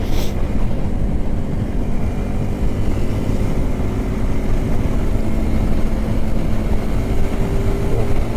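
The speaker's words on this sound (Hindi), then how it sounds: "और वैसे तो मैं बाइक चला रहा हूँ" A Yamaha R15M motorcycle engine runs steadily while being ridden on the road near Haridwar, a continuous close drone mixed with wind rush, no talking.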